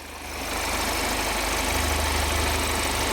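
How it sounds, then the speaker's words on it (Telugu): A 2021 Hyundai Creta 1.5 SX diesel idles close by, a steady even clatter with a low pulsing thrum that rises slightly in the first half second and then holds constant. "ఇంజన్ సౌండ్ మాత్రం ఇట్లా స్మూత్గా ఉంది"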